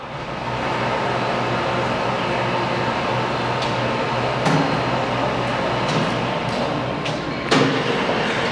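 A Leblond 19.5 x 105 engine lathe runs with a steady mechanical drone and low hum throughout, broken by a few faint clicks and knocks from the machine.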